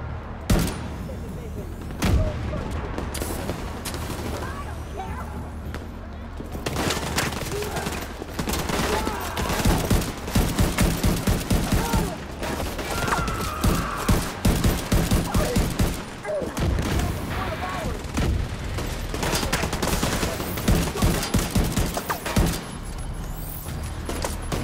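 A video game turret fires dense, rapid volleys of gunshots, loud and sustained for most of the stretch over a constant rumbling background, with faint voices now and then.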